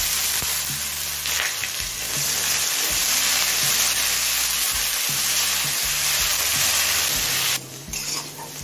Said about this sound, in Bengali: আলুটা লাল করে ভেজে নিয়েছি। এবার সিদ্ধ করা ডুমুরটা দিয়ে দিচ্ছি।